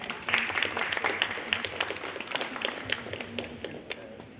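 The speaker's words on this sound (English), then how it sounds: "Give him a warm round of applause." An audience at a festival of short scientific talks claps in a thin, scattered round, with individual claps standing out and tapering off, while a faint voice murmurs beneath.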